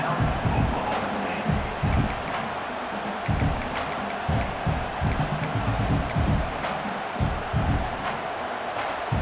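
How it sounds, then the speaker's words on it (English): A stadium crowd in EA Sports College Football 26 keeps up a dense, continuous roar with rhythmic swells and stomping beats, loud and steady throughout. "They've got them pinned deep in their own end, and this crowd trying to help keep them there."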